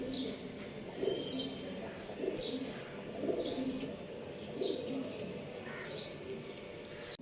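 A breeding pair of pigeons coo softly in repeated low, throaty phrases, each call a few seconds long, with a light chirp now and then and a faint background hush.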